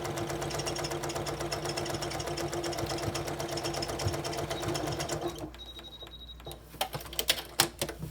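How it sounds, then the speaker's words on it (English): A fast, smooth sewing machine stitches fabric for a memory pillow with a loud, rapid, steady whir, then stops, leaving a few scattered clicks and handling noises. "That's one of the things I love so much about this sewing machine is it's just so fast and smooth and powerful."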